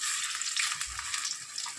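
Chicken pakora frying in hot oil gives a steady, close crackling sizzle, with a brief low thump partway through and no voices.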